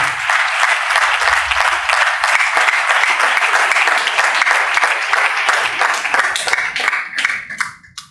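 Church congregation in Pallavaram applauding to welcome a speaker: dense, sustained clapping from many hands for several seconds, then thinning out and fading at the end.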